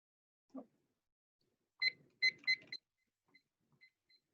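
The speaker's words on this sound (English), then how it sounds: "there's your timer right there" A timer goes off during an online class session, sounding a short series of bright electronic beeps in a quick cluster, followed by a few fainter repeated beeps, with no talk.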